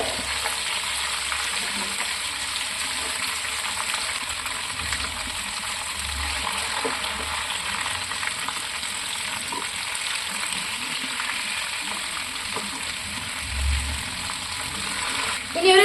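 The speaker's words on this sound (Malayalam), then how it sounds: "അങ്ങനെ തിരിച്ചിട്ടും മറിച്ചിട്ടുമാണ് നമ്മുടെ ഫ്രൈ ചെയ്തെടുക്കേണ്ടത്" Chicken frying in a pan and being turned over, a continuous loud sizzle with occasional soft knocks as pieces are flipped, while a voice speaks at times.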